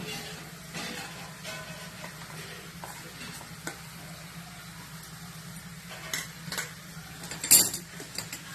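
Spiced mashed potato filling for a veggie frankie is stirred in a pan over a low background hum, with soft scraping and occasional spoon knocks against the pan, including a sharper clink near the end.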